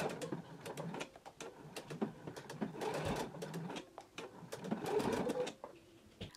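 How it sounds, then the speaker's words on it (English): Domestic sewing machine stitching a bar tack near the fly of a pair of pants, a steady motor whir broken into several short and long runs, close and fairly loud, with no talk over it. "I'm going to put my needle down right by the fly stitching and start stitching the bar tack."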